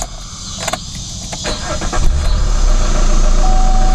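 A warm 2014 Chevrolet Cruze diesel engine cranks briefly, catches and settles into a loud, steady idle, heard close and with no talking.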